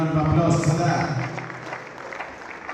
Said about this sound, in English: Please, once again, let's give a round of applause for that.